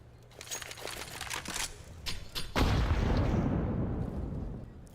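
Rapid crackling gunfire precedes a deep, booming grenade blast in Counter-Strike, whose rumble swells loudly and then decays slowly over a couple of seconds.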